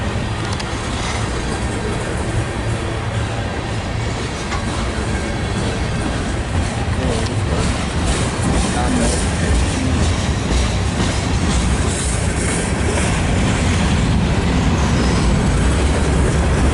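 A long manifest freight train rolls past on the railway, a loud, steady, close rumble with continuous clattering wheels throughout.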